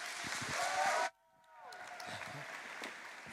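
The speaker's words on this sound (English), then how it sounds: "And a round of applause" A crowd at a university new-student orientation applauds, a dense wash of clapping and cheering that cuts off abruptly after about a second, leaving a quieter murmuring room.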